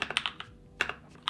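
Close-up typing on a Keychron K2 mechanical keyboard with Cherry Brown tactile switches gives soft, crisp clacks in quick bursts of several keystrokes, broken by short pauses.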